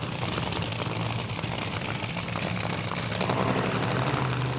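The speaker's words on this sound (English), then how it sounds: "the engine started idling very, very unusually. Most unusual cackle" Drag racing car engine at an FIA drag racing event idling roughly with an odd cackle, a loud, continuous low rumble close by with no speech.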